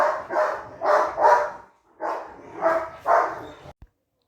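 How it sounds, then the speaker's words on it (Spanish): A pet dog barks in a series of sharp, close barks, three in a quick run, a pause, then three more, loud and alone in a quiet room. "Mi perro está ladrando."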